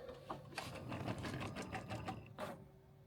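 Embroidery machine stitching out a 3D puff design at 470 stitches per minute, a quiet rapid mechanical chatter of needle strokes running steadily throughout.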